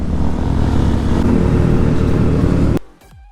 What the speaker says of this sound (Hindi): फॉर्मेशन आप देख सकते हैं, 2 करके 2 लेन चलेंगी बाइकों की।